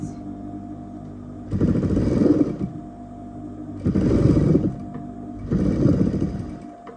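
Sewing machine top stitching the zipper fly of a trouser, three loud buzzing runs of about a second each separated by pauses, close up.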